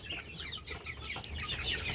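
Young Fayoumi chickens, about a month and ten days old, kept on a small farm, clucking softly and repeatedly in a faint, busy flock chatter with no talk.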